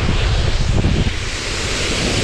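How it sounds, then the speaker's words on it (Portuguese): A waterfall pours in a steady, loud, broad rush of falling water, heard close up and continuous throughout with no speech. "A cachoeira aqui é top."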